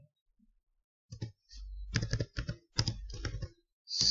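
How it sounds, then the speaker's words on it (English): Keys clack on a computer keyboard in short bursts of quick typing, close and clear against a quiet room while entering details into a spreadsheet. "I will type the details here."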